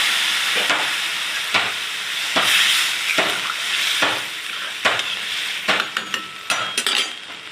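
Raw banana vegetable curry sizzles and fries steadily in a pan after water goes in, with loud hissing steam and repeated sharp clinks of a stirring spoon against the vessel.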